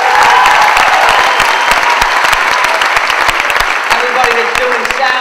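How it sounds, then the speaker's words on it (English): A theatre audience at a stage show applauds the lighting and sound crew, with loud, dense, steady clapping from a large crowd. Scattered voices and cheers rise through the applause, which fills the whole stretch without a break. "Let's have a big hand for the crew"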